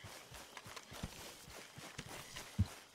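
Soft hoof clip-clop and hoofbeats of a wild horse being tamed in Red Dead Redemption 2, irregular and fairly faint, with one heavier thump near the end.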